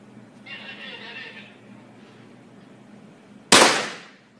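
A single sharp pistol shot at an outdoor shooting range cracks loudly after a stretch of quiet voices and a brief tonal call, its echo fading over the following second.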